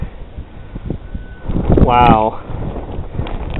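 Strong blizzard wind buffets the microphone outdoors in snow, a rough rumbling roar that gusts louder midway as a person briefly exclaims.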